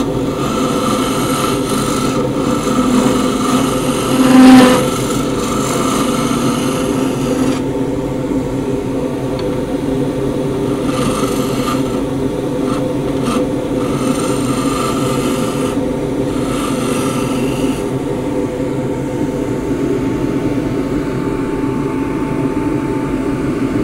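A deep fluted bowl gouge cuts a redgum box on a wood lathe, working against the grain. It makes a steady, close rasping hiss throughout, with one brief louder scrape early on and no talking.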